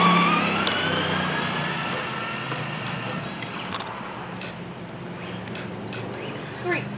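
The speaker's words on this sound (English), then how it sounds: "we brought back the RC car" Close to the listener, a remote-control car drives off with a loud, high-pitched electric motor whine that gradually fades, and people talk over it.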